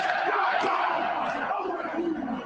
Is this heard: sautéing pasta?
no